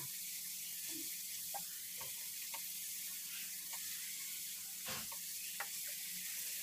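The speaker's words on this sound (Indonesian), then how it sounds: "Tumis jantung ayamnya agar meresap bumbunya." Steady sizzling hiss of chicken hearts stir-frying in a pan, with occasional soft clinks and scrapes of stirring.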